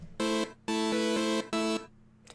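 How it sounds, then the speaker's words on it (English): Synth1 software synthesizer on its initialized preset gives a plain, buzzy sustained tone, played as three separate held notes with short gaps and a soft tail at the end, clean and without talk. "So, Synth 1 is currently set to the initialized preset"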